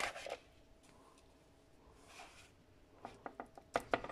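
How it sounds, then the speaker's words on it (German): A spatula turns a breaded cordon bleu over in beaten egg, giving soft, close scraping and wet clicking near the end after a quiet stretch. "Nehme ich kurz meinen Pfannenwender."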